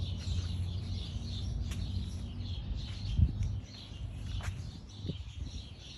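Birds chirp and tweet faintly beyond a garden fence, scattered short calls sitting low over a steady outdoor background hum.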